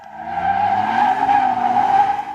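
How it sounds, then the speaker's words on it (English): A car's tires squeal in one sustained, loud, wavering screech that holds steady for a couple of seconds with no talking. "Tires are loud."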